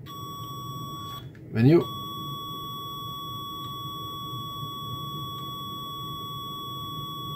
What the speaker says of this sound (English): I'm gonna put it on the beeper so you can hear it.